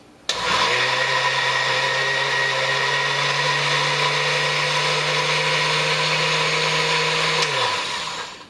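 A countertop blender whirs loudly while chopping fresh cilantro for a wasabi butter sauce, starting abruptly, holding a steady high-pitched motor drone for about seven seconds, then winding down.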